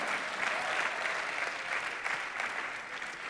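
Church congregation applauding at a Sunday worship service, a dense, steady wash of clapping that holds evenly through the whole stretch with no voices on top.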